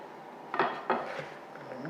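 Hash brown ingredients and peppers being mixed in a big bowl, two distinct clattering knocks of a utensil against the bowl followed by softer scraping and shuffling, close by.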